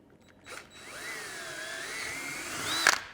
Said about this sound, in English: and drill these 2 holes.